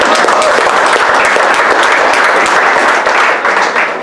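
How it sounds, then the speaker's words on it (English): A crowd at the Pottery Museum of Red Wing's 25th anniversary celebration claps loudly and steadily, dense applause that dips briefly near the end. "Yeah, let's clap on that again."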